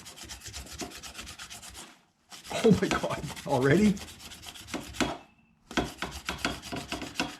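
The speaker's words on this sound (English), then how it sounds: "the aluminum can't scratch and damage either, but it will rub off the rust spots" Aluminum rubs rust spots off a chrome part on a 1976 Raleigh Cougar MX500 bicycle, close scratchy back-and-forth strokes in bursts separated by brief silences, with a short spoken exclamation among them.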